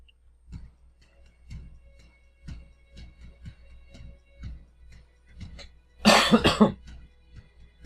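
A single loud burst of coughing from a gamer playing Forza Motorsport 5 on Xbox One, rising abruptly over faint game sounds and lasting about half a second before fading back to the quiet background.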